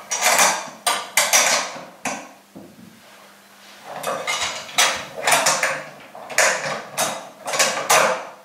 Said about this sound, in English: now I'm going to use my two and a quarter inch bolts to put through the lower handle